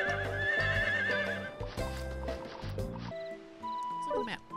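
In the Harvest Moon: The Winds of Anthos video game, a horse whinnies loudly in a couple of bursts over clip-clopping hooves and bright game music, then the music shifts as the galloping fades.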